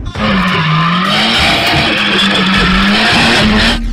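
Nissan Silvia S15 drifting on a track, loud screeching tires sliding over a revving engine whose pitch wavers up and down, continuous and close for the whole stretch, no talk.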